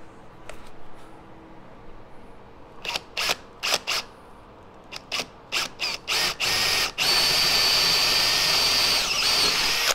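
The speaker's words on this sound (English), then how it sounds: "Try not to drill into your table." A power drill bores holes in a wooden stop block for miter saw wings, starting in short separate bursts and then running continuously and loudly close by.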